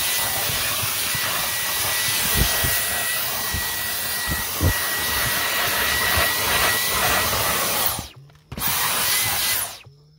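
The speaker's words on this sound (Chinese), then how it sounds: "我知道为什么要用汽车吸尘器，因为那个很多角落它吸不到" A small handheld car vacuum cleaner runs on its highest setting inside a car during an interior clean, giving a steady close whine and airy hiss that cuts out briefly near the end, then resumes before stopping.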